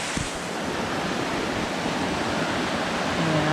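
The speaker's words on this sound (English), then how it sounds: "You get Spur Brook Fall, which is on Spur Brook." Spur Brook Fall on Spur Brook roars steadily as a dense, unbroken wash of rushing water, loud and close, with a slight swell toward the end.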